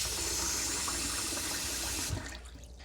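Water runs steadily and close by while lentils are rinsed in a cooking pot, a continuous splashing wash that cuts off near the end, leaving quieter trickles and small knocks.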